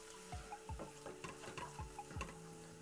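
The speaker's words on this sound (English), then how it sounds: "Take it and just keep mixing it. Keep frying it. Scrape up those sides." Seasoned mushrooms sizzle in a pan as a utensil stirs and scrapes them, giving a soft steady fry broken by a regular series of scraping strokes, quiet and close, with no voices.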